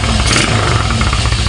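A freshly washed motorcycle that has been starved of oil and blows white smoke runs close by with a steady, rough, rattly idle, loud and unbroken for its brief length.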